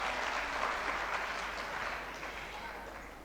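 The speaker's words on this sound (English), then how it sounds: "Please give a round of applause to Dr. Sunil Gupta." Audience at a trainers' summit applauds a speaker, a broad wash of clapping that is fairly loud at first and gradually fades over a few seconds.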